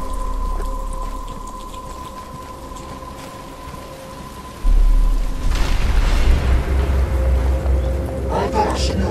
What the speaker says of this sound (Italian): Ma inizia a piovere.